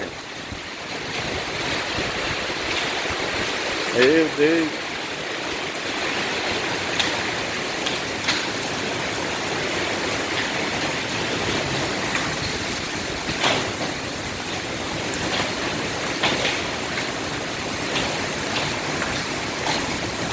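A fierce hailstorm with heavy rain pours down as hailstones tumble off a roof, a steady, loud, broadband roar with scattered sharper hits and surges; a person briefly exclaims early on.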